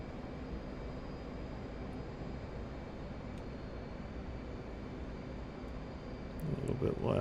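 An F/A-18C Hornet's jet engine in the DCS flight sim roars steadily and evenly throughout, swelling slightly louder near the end as throttle is added into a turn.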